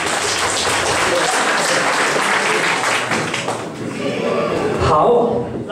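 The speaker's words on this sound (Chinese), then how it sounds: "所以我们再掌声鼓励一次。" Audience at a stage show breaks into sustained clapping that thins out toward the end, with a voice speaking over the last part.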